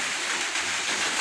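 Heavy rain falling at night in Surigao, a steady broadband hiss of downpour with no breaks, fairly even in loudness and without voices.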